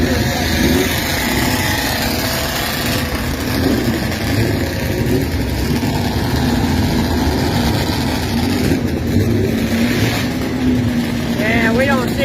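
A motorcycle engine just started runs with a steady, loud, rough drone close by, continuous throughout with outdoor background noise.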